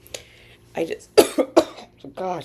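A few short, harsh coughs from one person nearby, spaced out with brief pauses, ending in a rougher throaty burst.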